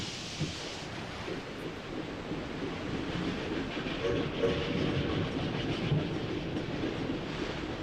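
A train in the Dragon Quest X game rolling along its rails, a steady rumbling clatter that holds throughout with a faint rhythmic clack.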